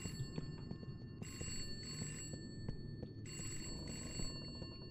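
A telephone rings twice in the video game Mint's Hints, each burst of bright ringing standing out over a steady low rumble of ambient background noise.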